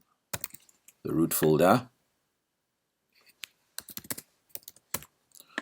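Typing a shell command on a computer keyboard during a session setting up a Kubernetes cluster on Azure, with a burst of speech early on followed by scattered sharp key clicks at a moderate distance.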